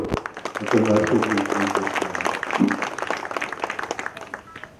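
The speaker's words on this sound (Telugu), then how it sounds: "నంది అవార్డు గెలిచినటువంటి కుమార్ గారు ఒకసారి చప్పట్లతో" An audience at a memorial gathering for a Nandi award-winning stage actor breaks into applause, a dense patter of clapping that swells and then fades as a voice speaks over it.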